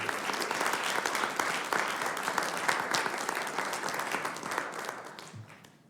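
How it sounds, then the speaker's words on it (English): Sustained applause from a large audience, dense steady clapping that fades out near the end. "I want to give them one huge applause again."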